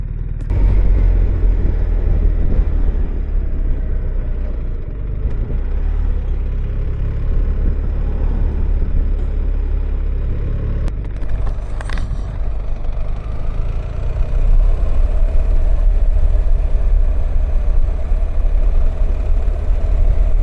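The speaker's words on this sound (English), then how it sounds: "that was the ride home in 34 degrees on a 1300GS for change" A BMW R1300GS motorcycle engine runs steadily on a ride in 34-degree heat, a loud, constant low rumble that continues unbroken with no voices.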